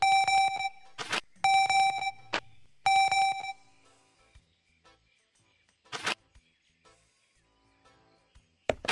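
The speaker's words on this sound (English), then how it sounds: "A device. That just won't stop beeping." An electronic device in the video game Kaptain Brawe beeps insistently in loud, bright tone bursts, several repeated chirps followed by quieter scattered blips.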